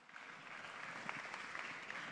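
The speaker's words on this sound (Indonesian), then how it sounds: "Boleh kita berikan tepuk tangan untuk penampilan mereka?" Audience applause after a Betawi Molek dance by high school students in Jakarta, a soft, dense wash of clapping heard at a distance, steady and faint throughout.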